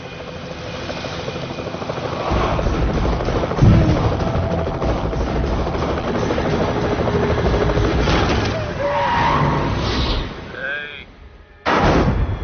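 A helicopter in a Telugu comedy film scene gives a loud, steady rotor-and-engine drone that runs through most of the stretch, with a few sharper bursts before it drops out briefly near the end.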